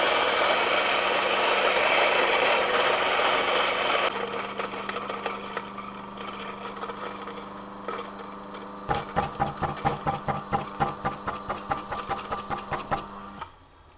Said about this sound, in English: This is a flat burr grinder, and it's stepped with all of the adjustments that you can make with your hand